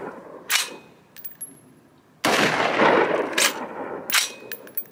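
Gunshots from a short-barrel California-legal AR-15 pistol at an outdoor range: several sharp, loud reports spaced irregularly, each with a ringing metallic tail, plus a denser burst of noise in the middle.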